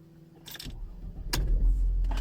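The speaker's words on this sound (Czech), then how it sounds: "Dobrý, auto nastartovaný." A Mercedes car engine cranks and catches at about 1.3 seconds, then settles into a steady low idle, preceded by faint rustling and a brief mechanical whir, heard up close with no talking.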